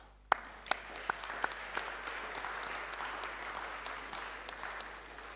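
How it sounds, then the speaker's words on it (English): Audience clapping at an annual New Year school and conference, starting with a few distinct sharp claps that swell into steady, moderately loud applause from a sizable crowd, sustained without talk. "I think we all need to clap for that"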